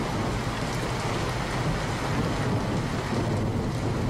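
Heavy monsoon rain pours down in Chhotaudepur, Gujarat, during flooding, a dense, unbroken roar of falling water, loud and constant with no voices.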